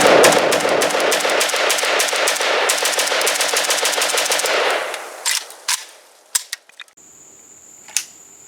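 A Cugir WASR-10/63 AK-pattern rifle fires a long, rapid burst of loud shots, then a few scattered single shots and metallic clicks follow, close and sharp.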